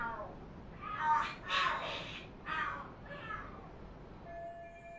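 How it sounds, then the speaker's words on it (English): Cats fighting in the video game Lost Judgment: a few drawn-out, wavering screeches and yowls in quick succession at moderate distance, fading to a faint steady tone. "Are there cats fighting? What are they screaming for?"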